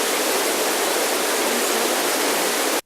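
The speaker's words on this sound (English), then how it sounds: "soothing rain," Soothing rain setting on a portable white noise machine, a dense, constant hiss like steady rainfall or rushing water, loud and unchanging before a sudden stop.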